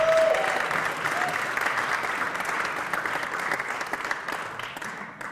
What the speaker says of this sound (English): So, a round of applause, please, for Esther.